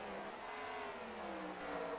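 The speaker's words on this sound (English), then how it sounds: "The Akers racing cars make contact in the back." Race cars in a racing video game roar together in a steady, dense engine drone, with tire noise blended into a continuous loud wash and no single impact standing out.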